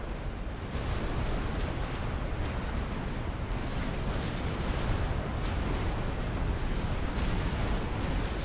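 Continuous heavy rumble of explosions and booming impacts from backpack missile strikes on a base in a Forged Alliance Forever 4v4 match, dense and sustained at steady loudness with no pauses.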